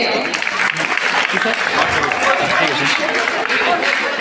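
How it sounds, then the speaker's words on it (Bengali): Audience applause at a school prize distribution ceremony during a sports award presentation, dense steady clapping from a large crowd that continues throughout, with murmured chatter mixed in. "হাততালি করলে।"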